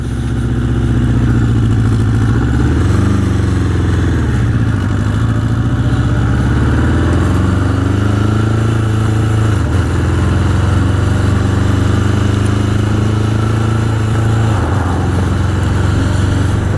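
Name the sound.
1981 Honda CB750 Custom motorcycle riding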